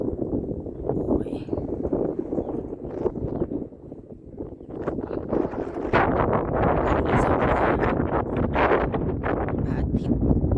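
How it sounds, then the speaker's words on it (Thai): Cold dawn wind on Doi Mae Tho mountain roaring into the microphone, a loud continuous buffeting that dips briefly and then surges stronger, with a voice talking over it. "ลมเย็นมากหนาวมากเลย"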